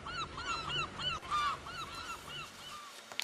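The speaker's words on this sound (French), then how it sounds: "Et on entend les mouettes." Seagulls call repeatedly in a theatre sound effect, a steady series of bright honking cries rising and falling over a low background hum, with one louder cry near the middle and the calls fading out at the end.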